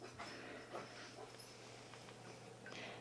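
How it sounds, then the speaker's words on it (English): A dog makes faint, brief whimpering and yipping sounds over a steady low hum in a quiet room. "there the doggy goes"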